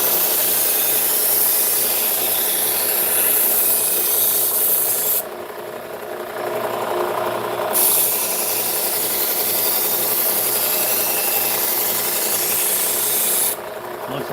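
A butcher's knife is sharpened with steady, continuous rasping strokes of the blade across a sharpening surface. The grinding is loud and close, briefly pausing once partway through before resuming.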